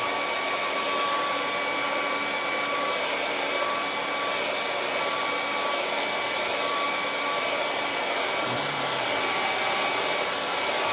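A hair dryer blows steadily on wet acrylic paint on a sunset canvas, giving an unbroken, close, loud whirring hiss for the whole stretch.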